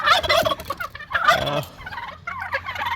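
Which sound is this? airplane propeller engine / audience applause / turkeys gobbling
turkeys gobbling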